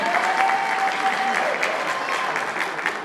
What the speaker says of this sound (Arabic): فرق التصوير والمونتاج صفقوا علينا